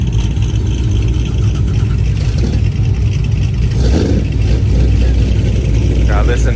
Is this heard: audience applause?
no